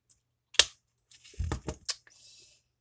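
Several quick pops and clicks come close up in an irregular burst, small snapping presses of a dimple fidget toy.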